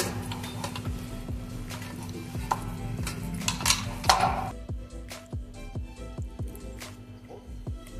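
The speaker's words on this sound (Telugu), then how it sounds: "ఈ మిశ్రమాన్ని ఈ విధంగా కలుపుకుందాం." A pea and paneer filling for paratha is mixed in a bowl with a spoon, making repeated soft scraping and squishing strokes and clinks close by against a faint steady hum, with no talking.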